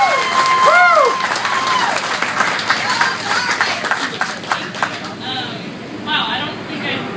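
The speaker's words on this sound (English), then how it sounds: "I want everybody to give a round of applause for Courtney Force" Crowd applause and cheering at a drag racing event at a raceway as a drag racer is introduced, loud at first with shouts and whoops mixed in, then thinning toward scattered clapping, with voices throughout.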